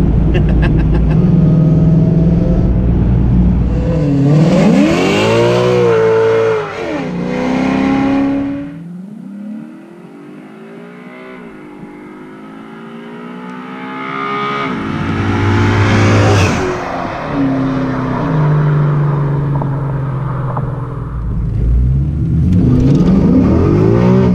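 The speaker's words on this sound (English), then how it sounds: "Boy, you're shredding them tires." A Fox-body Mustang with a swapped Coyote V8 pulls hard, its engine revving loudly through rising gear sweeps as the tires spin and shred, then easing off before surging again.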